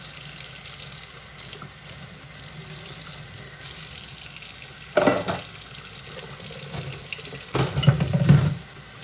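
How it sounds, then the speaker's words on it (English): Dishes being washed in a sink under a running tap, a steady stream of water with clinks and scrubbing bursts near the end, close and continuous with no talking. "Yeah, we're getting close to done with these dishes."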